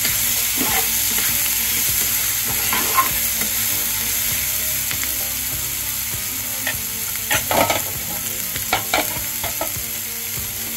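A chili mixture with crushed peanuts is stirred in a hot pan, giving a loud, constant sizzle and crackle. Clusters of scraping and clattering stir strokes come toward the end, with no talking.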